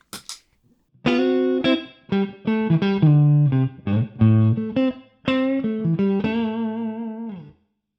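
An electric guitar through an Effectrode Blackbird tube preamp pedal, with a gritty overdriven tone, plays a short riff of sustained notes and chords, clear and alone with no talking.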